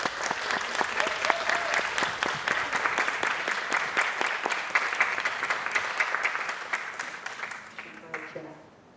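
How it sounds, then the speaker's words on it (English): A standing audience at a Women of the Moose ceremony gives a sustained round of applause for the Junior Graduate Regents, dense clapping that holds steady for several seconds before tapering off, with faint voices underneath. "please rise and offer congratulations to these Junior Graduate Regents with a round of applause"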